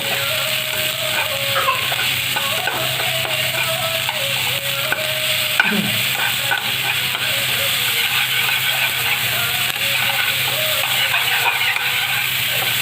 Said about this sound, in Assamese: পনৌনোৱা শাকটো অকণমান ধুনীয়াকৈ ভাজি ল'ব।